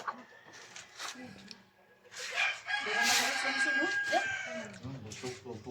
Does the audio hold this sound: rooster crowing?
yes